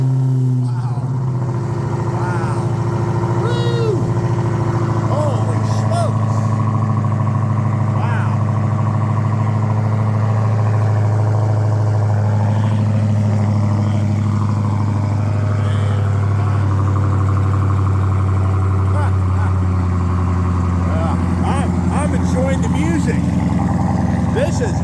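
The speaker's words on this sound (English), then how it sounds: "I'm going to get this car started. Let's see how this thing sounds." A car engine runs at a steady idle throughout, a low continuous hum with slight rises, while a person talks over it at close range.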